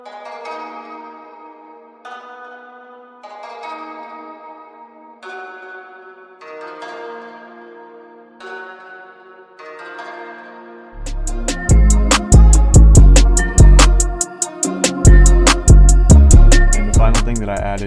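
A plucked ethnic instrument sample drenched in delay, reverb and lo-fi saturation plays a slow melodic phrase, then a heavy, dense full beat with thumping bass bursts in loudly and fills the rest.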